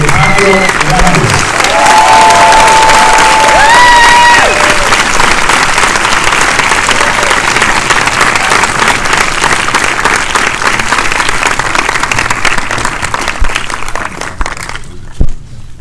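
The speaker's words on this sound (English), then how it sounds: "Everybody, please give a big applause to the director, Alejandro Landes." Sustained, dense applause with some cheering from a premiere audience welcomes the director at a film screening Q&A, starting after a brief voice and fading out near the end.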